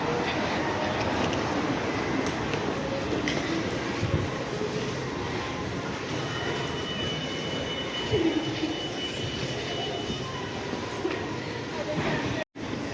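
Train at a railway station in Australia, a steady loud rumble of rail noise that fills the whole stretch, with a brief squeal and voices in the background.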